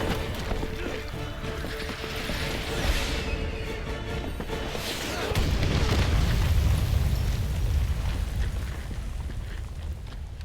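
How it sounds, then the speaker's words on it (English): Explosions from a building being bombed in Resident Evil 6, a continuous rumbling roar with low booms that swell louder and heavier midway through, dense and sustained with no voices. "Why are they bombing that building?"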